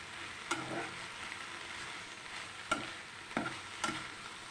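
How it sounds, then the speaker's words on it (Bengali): Food with turmeric stirred in a pan as it fries, giving a steady close sizzle broken by a few sharp scraping knocks of the spoon against the pan; no one speaks. "এবার আবার নাড়াচাড়া করে দেবো।"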